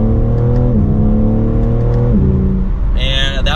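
A 2023 BMW M3 Edition 50 Jahre accelerates gently in third gear. A loud, close engine drone rises in pitch, steps down at gear changes, and rises again.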